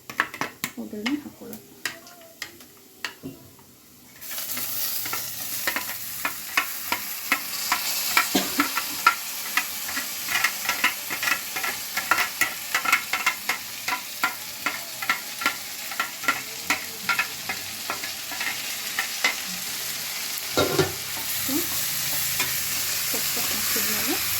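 Drained honagonne greens (Alternanthera sessilis) are stirred in a hot pan, sizzling steadily while a utensil scrapes and taps in a quick, regular rhythm. A person talks during the opening seconds and again near the end.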